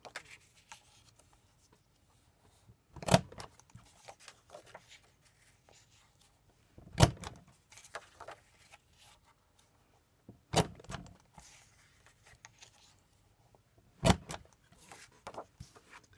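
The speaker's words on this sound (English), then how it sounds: "There's one paper punched." Paper punch cutting craft paper for nested pinwheels: four sharp crunching clunks spaced about three to four seconds apart, close and moderately loud, with light rustling of paper in between.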